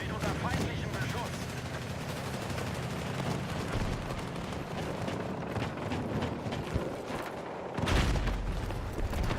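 Gunfire in Battlefield 6 crackles in dense, rapid bursts with scattered booms and explosions throughout, fairly loud and continuous, with a heavier blast near the end and a voice speaking briefly over the battle.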